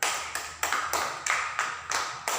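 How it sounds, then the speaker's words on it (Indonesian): Students in a classroom clap for a classmate in short, sharp bursts, about eight quick swells of applause in a row, fairly faint and without talk. "Sekali lagi berikan tepuk tangan."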